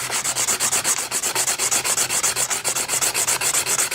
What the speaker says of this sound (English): Plus, giving it a good sanding